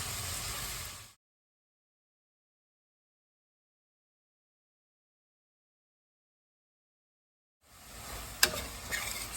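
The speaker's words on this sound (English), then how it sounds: "Fry the onions till they are nice and golden brown." Onions fry in a pan while being stirred, giving a soft sizzling hiss at the start, then a long silent gap, then the sizzle returns with a few sharp scraping clicks of the spoon.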